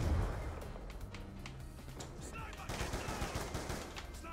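Rapid FAL rifle gunfire in Black Ops 2, repeated sharp shots in quick bursts under loud game noise and other battle sounds.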